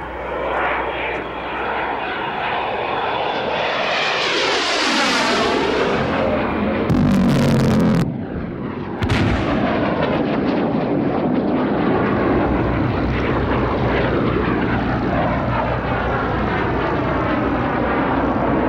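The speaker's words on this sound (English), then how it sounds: "the Magister has also been adapted to carry weapons and is used by some countries as a light attack aircraft" A Fouga Magister jet trainer roars past at the Warbirds Over Wanaka 2000 airshow. The loud engine whine climbs as it approaches, sweeps down sharply as it passes, then trails off into a long rumbling roar.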